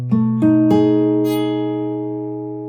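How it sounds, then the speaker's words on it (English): A guitar strums a root-6 dominant seventh chord with an added thirteenth, three quick plucked attacks in succession, then the chord rings out and slowly decays, close and alone. "Or we can add the 13 to it"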